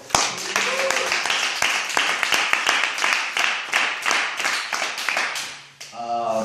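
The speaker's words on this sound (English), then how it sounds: "can we get a round of applause for Mr. Jonas?" A small group claps for Mr. Jonas at a sales training session, sharp individual claps forming a brisk, uneven round that fades near the end as a voice begins to speak.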